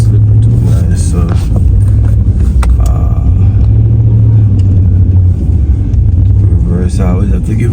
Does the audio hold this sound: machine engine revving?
yes